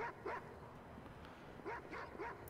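A dog barks in the video game Watch Dogs 2, giving a quick pair of barks, a pause, then two or three more, moderately close over a low game background.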